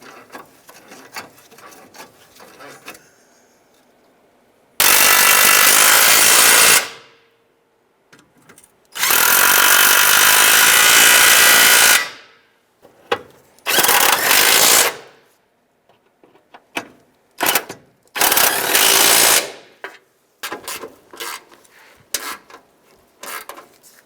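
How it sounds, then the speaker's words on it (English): Power tool driving bolts down on the battery tray of a 1992-1996 Ford F-150, heard as several loud close bursts of whirring with short pauses and ratcheting clicks between them. "We can start to tighten down our bottom bolts."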